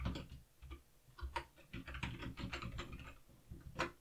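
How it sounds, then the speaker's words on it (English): Someone types on a full-size keyboard connected to a Samsung DeX Station for a Galaxy S8, producing quick, irregular clusters of close, soft key clicks with brief pauses and no talking. "So now I can use my full keyboard"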